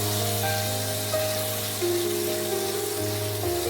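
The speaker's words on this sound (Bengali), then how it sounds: "দিয়ে এই টমেটোগুলোকে একটু ভাজা ভাজা করে নেব।" Tomatoes fry in a pan with turmeric and salt, cooked for a Bengali chhana potol rasa, giving a steady, even sizzle that runs unbroken throughout with no talking.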